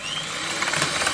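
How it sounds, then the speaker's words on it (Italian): Electric mixer whipping 330 grams of cream for an Italian coffee cream dessert, a steady whirring motor drone with a slightly rising grind, constant and close, with no voices. "Adesso andremo a montare la panna."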